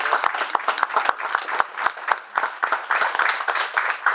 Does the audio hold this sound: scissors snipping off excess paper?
no